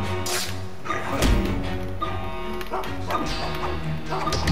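A guard dog in the stealth game Mark of the Ninja barks and yips in several sharp bursts over game music and background sound effects, with a loud crash in the middle.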